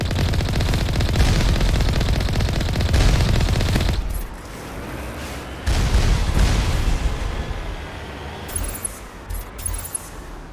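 Sustained automatic turret gunfire in the video game Mass Effect, loud and continuous at first, then a pause. It returns as a quieter rattle with scattered sharp bursts and metallic pings near the end.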